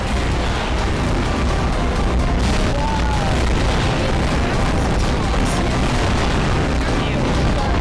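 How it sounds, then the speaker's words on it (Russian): A loud, sustained roar of an explosion in Garry's Mod fills the clip, a dense rumbling blast that never lets up. "Эпический взрыв."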